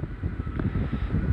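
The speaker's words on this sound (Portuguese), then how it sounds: "O problema é que está vento." Wind buffeting outdoors near a tall structure, a steady low rumbling roar with gusty microphone noise throughout.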